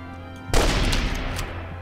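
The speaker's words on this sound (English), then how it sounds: "Is that a fucking machine gun?" Machine gun fire in the video game Enemy Front, a sudden loud burst erupting after a quiet hum and rattling on as a dense, sustained volley with a booming tail.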